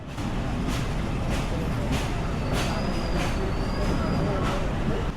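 A passenger train pulls into Phultala railway station in Bangladesh, its steady loud rumble filling the space with repeated rhythmic clanks from the wheels and a thin squeal midway as it slows.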